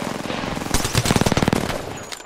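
Rapid automatic gunfire in a multiplayer shooter video game, a loud burst of fast repeated shots that builds and then trails off, with no speech over it.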